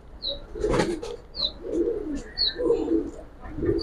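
Pigeons of a large-bodied old line coo in low, rolling calls repeated several times close by, with a few higher chirps and light rustling in between.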